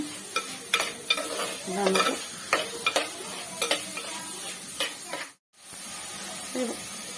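Ingredients for a drumstick curry sauté in a pan, with a steady sizzle under repeated scraping stirs of a spoon, heard up close and with no talking.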